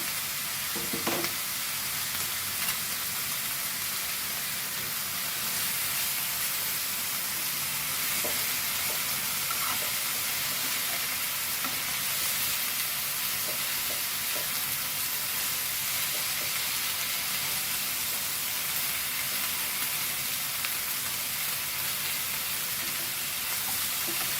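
Goan pork chops frying in a pan, a long even sizzle and hiss holding steady at moderate level, with a few faint clinks and shifts early on and no speech.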